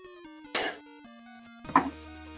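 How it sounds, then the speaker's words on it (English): A single cough from someone with seasonal allergies, heard close and fairly loud over steady electronic chiptune music from a retro 8-bit platformer, followed about a second later by a second short throaty burst. "I will apologize to everybody listening if I cough."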